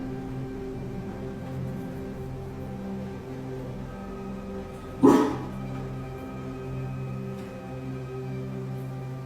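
A dog barks once inside an old cottage outside Sydney, Australia: a single sharp, fairly close bark breaking an otherwise steady low hum.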